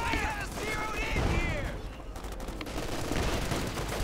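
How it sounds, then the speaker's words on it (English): A light artillery strike lands in Company of Heroes 2, a dense rumble of bursts and rapid gunfire mixed with game battle noise, while a voice talks over it. "Another light artillery strike there."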